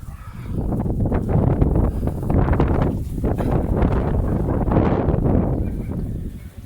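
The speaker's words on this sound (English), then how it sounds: "that was a crazy wind gust." Strong wind gusting outdoors with trees thrashing, a loud roaring rush that swells and fades in waves, buffeting the microphone close up.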